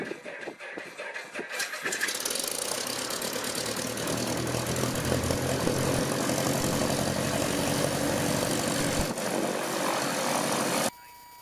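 The engine of a Cessna 172M turns over and catches, then runs steadily at a loud, even idle with the propeller churning, cutting off abruptly near the end.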